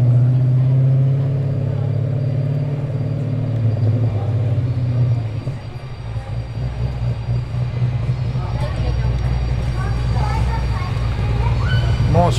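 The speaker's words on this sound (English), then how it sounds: "Nice burble of the V8." A Holden Commodore V8 gives a deep, loud, low burble at idle, then pulls away as the rumble falls back and a higher, rising rev comes through toward the end.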